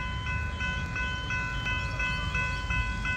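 A train nears the Main Hurstbridge Road level crossing at Diamond Creek, Victoria: rhythmic crossing bells clang steadily over a deepening low rail rumble, fairly loud and continuous.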